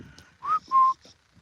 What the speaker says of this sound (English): There we go, the cuckoos are here.